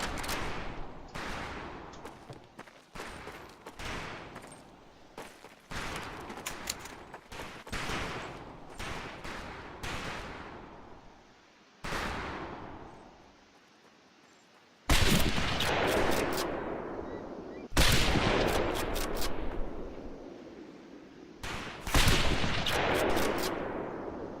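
Scoped rifles fire at long-range targets in the video game Medal of Honor Pacific Assault, a string of sharp, loud cracks with ringing tails, some closely spaced and others after pauses, ending in three heavier blasts.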